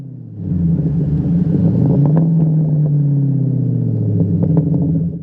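A procharged 2003 Ford Mach 1 with a 4.6 engine and five-speed drives around town, its loud, steady engine rumble rising and falling in pitch as it pulls and shifts, heard close with no talking.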